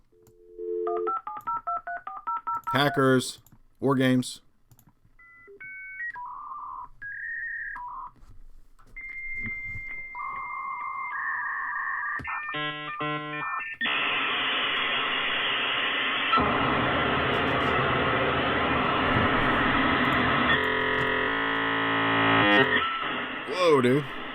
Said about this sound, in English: The old internet hookup sound.